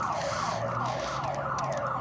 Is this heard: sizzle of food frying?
no